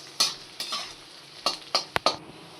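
Chopped garlic, ginger and green chili frying in a pan, a steady sizzle punctuated by a series of sharp spatula stirs and clinks against the pan, with no voices.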